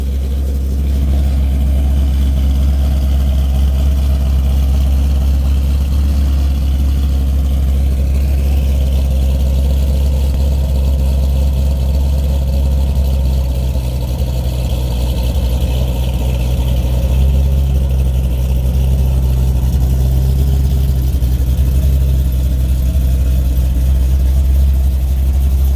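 A deep, loud cammed C5 Corvette engine idles steadily for the whole stretch, its low rumble lumpy and uneven, with a slight swell near the end.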